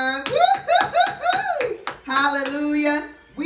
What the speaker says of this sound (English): We clap when it's offering time because it is a cheerful time